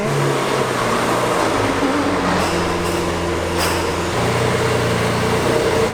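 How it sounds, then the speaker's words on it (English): A V12 car engine idles and revs in a steady, loud drone with shifting tonal hum, close by and continuous, with no talking. "You ain't going to get a better sounding car than that. V12."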